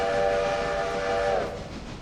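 Toy model train with a whistle-like tone: a steady sustained horn sounds close and fairly loud for over a second, then bends and fades as running noise carries on, with no voices.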